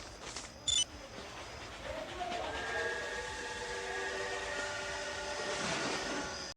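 A train in the video game Death Park runs steadily at a moderate distance, a sustained rumble with a whistle-like tone, preceded by a brief sharp blip near the start.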